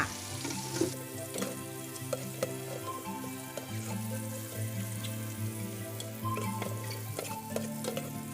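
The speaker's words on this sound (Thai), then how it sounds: "เริ่มจากการผัดเห็ดหอมกับน้ำมันพืชนะคะ" Shiitake mushrooms stir-fry in vegetable oil, a steady close sizzle broken by scraping and clinking of a utensil against the pan, with no talking.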